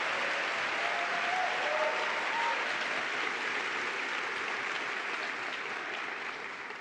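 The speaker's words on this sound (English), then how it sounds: "So now, please, huge round of applause for Vice President of the European Commission, Margaritis Esquinas." A large audience of young people at a European Erasmus+ gathering gives a sustained round of applause for a European Commission vice president, a continuous wash of clapping that fades slightly toward the end.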